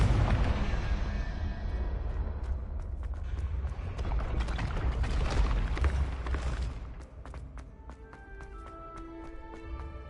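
A Confringo fire-explosion spell cast in Hogwarts Legacy, a loud dense blast with a deep rumbling low end that holds for several seconds, then thins into sparkling magical chimes and tones as the burst fades.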